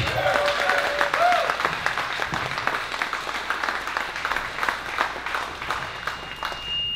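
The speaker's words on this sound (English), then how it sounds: "can I get an even bigger round of applause for America?" A large crowd claps and cheers at a fitness fundraising event for the Semper Fi Fund. The applause is loud and sustained, with a brief whistle or tone near the start.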